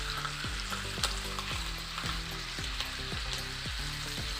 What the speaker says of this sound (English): Let's shallow fry it a little bit.